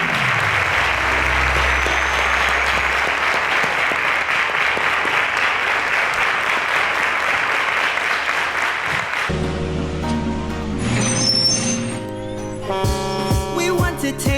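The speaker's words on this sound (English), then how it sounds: "A round of applause to them, please." A studio audience applauding on a televised quiz show, with loud, steady clapping for about nine seconds before it gives way to bright jingle music with tonal notes.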